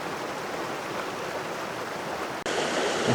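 Steady, full rush of a waterfall heard nearby, a continuous broadband roar that briefly cuts out and resumes slightly louder.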